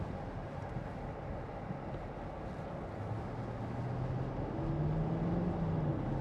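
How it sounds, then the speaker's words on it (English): A 2014 Porsche Cayenne S diesel engine hums steadily with a low, even rumble, rising slightly toward the end; no voices. "That sound of the engine's beautiful."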